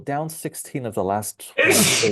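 A sneeze bursts out at close range right after a stretch of conversational talk, one sharp, loud, breathy blast at the end of the moment.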